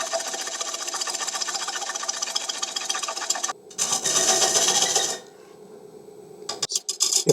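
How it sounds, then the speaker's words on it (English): Steady high whir of a wood lathe with a scraper cutting a dried, rough-turned wooden bowl, a dense continuous rasp that drops out briefly, resumes, then quiets to a lower hum with a few scraping bursts at the end. "Notice I'm tipping that scraper downhill."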